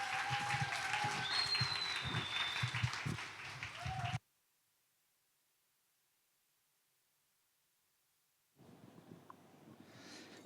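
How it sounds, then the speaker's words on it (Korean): An audience at a young adults' church gathering claps to welcome a missionary. The applause is fairly faint and lasts about four seconds, then cuts to silence before quiet room noise returns. "앞으로 모실 때 여러분, 네, 환영하는 마음으로 박수 힘껏 쳐드리면 좋겠습니다"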